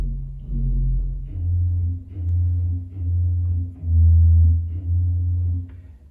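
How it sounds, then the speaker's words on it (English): Deep, rounded bass notes from the 16-foot pedal bourdon of the C.B. Fisk Opus 145 pipe organ sound alone, a slow series of held tones that swell and fade, each lasting about a second. "The 16-foot board, of course, has this wonderful bass quality."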